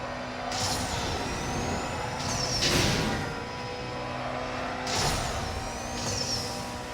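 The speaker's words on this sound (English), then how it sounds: "Plenty of traffic in this race." Road traffic in the racing game NFS No Limits: several cars whoosh past one after another, with rising and falling engine tones and hissing sweeps over a continuous drone of the player's engine.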